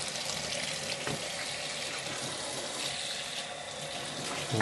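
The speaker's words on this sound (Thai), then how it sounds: "เอาน้ำปุ๊บน้ำก็จะพุ่งมา" Water spurting out of a Diller Tritan 350 ml kids' flask while it is rinsed, a steady hissing, splashing gush running unbroken and fairly close throughout.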